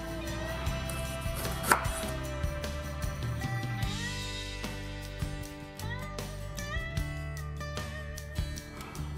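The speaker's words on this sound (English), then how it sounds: "We're going to slice the ginger root as well." A knife cuts ginger root into half-centimetre-thick slices, giving a run of quick crisp cuts against a board that are close and distinct, with music playing underneath.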